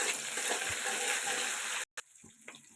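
Washed curry leaves drop into hot oil with mustard seeds and garlic, a loud close crackling sizzle that cuts out abruptly, then quieter spattering follows.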